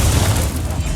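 Fire spell cast in Hogwarts Legacy, a loud, dense burst with a booming low rumble that holds steady for about a second, like a sustained magical blast.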